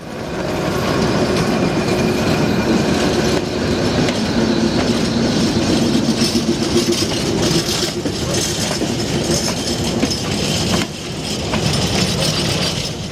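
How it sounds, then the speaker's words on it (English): Class 1800 locomotive 1808 hauls a train of returning empty wagons toward Évora, a loud continuous rumble with steady clickety-clack from the wheels and occasional faint squeals as the cars roll past. "Number 1808 is seen with the return empties approaching Evora in January of this year."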